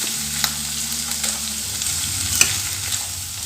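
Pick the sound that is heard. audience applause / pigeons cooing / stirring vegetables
stirring vegetables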